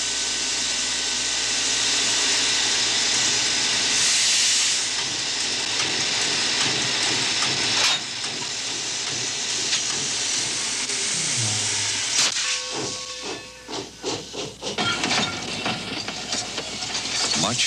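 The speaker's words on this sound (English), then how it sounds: "The sight and sound of steam engines at work became increasingly rare." A steam locomotive at work on an American railroad, giving a long steady rumble and hiss with rhythmic clatter from the rail cars and a sharp burst of steam near the end, heard up close with no talking.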